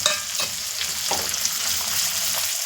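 A whole large onion and peanuts sautéing in oil for Khandeshi eggplant bharit, a loud steady close sizzle with a few soft stirring scrapes.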